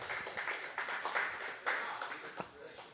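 A crowd at Jeffersons claps in a steady, irregular patter with broad cheering noise underneath, moderately loud and continuous, with no single voice standing out.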